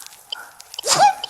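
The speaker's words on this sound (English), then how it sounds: "I sneeze." A quick sneeze bursts out after a few soft breathy noises, close and fairly loud, then fades off.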